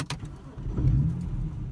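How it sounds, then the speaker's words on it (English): BMW E90 car engine cranking and catching, rising into a steady low idle rumble after a brief click, close up with no talk. "you start the car up normally how you normally would"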